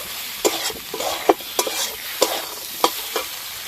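Diced potatoes and chopped tomato frying with spices in a pan, steady sizzling punctuated by a rhythmic series of sharp spatula scrapes and knocks, close and fairly loud, no voices.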